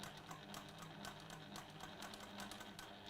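A sewing machine runs steadily, stitching a curved quilt block piece with a fast, even mechanical whir that stays close and constant throughout.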